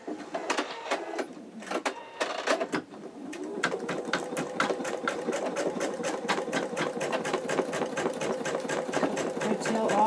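An embroidery machine sews an in-the-hoop wallet at slow speed, running a zigzag stitch over fabric: a close, steady train of rapid needle thumps with a mechanical whir beneath, growing denser and more even after a few irregular opening strikes.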